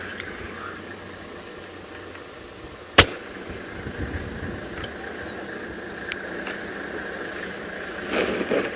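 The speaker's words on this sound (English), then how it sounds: "You will hear engines and people." Safari vehicle engines idle during a sunrise game drive, a low steady rumble and hum running throughout at moderate distance, broken by one sharp click and a faint rise in noise near the end, with no talk.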